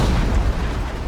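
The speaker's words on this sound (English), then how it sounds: "And there's the explosion." Explosion in Resident Evil 2, a single loud, deep booming blast with a rolling low rumble that fills the whole moment and fades slightly at the end.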